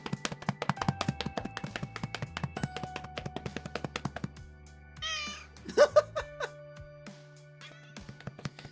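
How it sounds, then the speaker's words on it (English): Bungo the cat gives a short, close meow while being petted, following a stretch of tapping and light knocks, with a quiet background underneath. "Bungo the cat."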